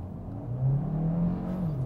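Hyundai Tucson in sport mode pulling away from a standstill, its engine rising in a steady low whir and swelling midway through as it accelerates, heard from inside the cabin with no talk.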